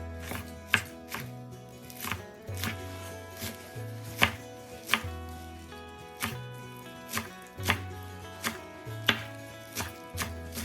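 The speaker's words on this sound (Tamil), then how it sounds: "இதான் நாங்கள் நல்ல தூளாக வட்டி எடுத்துக்கொள்ளுவோம்" Fenugreek (methi) leaves chopped finely with a knife on a board, a steady run of crisp, close knife strikes at an uneven rhythm, with no talking.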